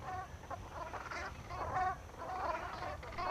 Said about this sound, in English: Brent geese arrive in their thousands